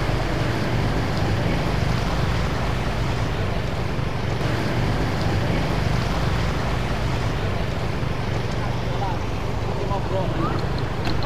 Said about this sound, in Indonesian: semoga aja nggak mogok ini ya motor saya